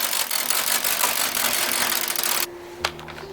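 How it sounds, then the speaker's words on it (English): A knitting machine carriage sweeps across the needle bed knitting slip stitch with automated short rows, a loud, close, continuous mechanical rasp that stops abruptly, followed by a single clack and quieter clicks. "So I knit slip stitch and automated short rows."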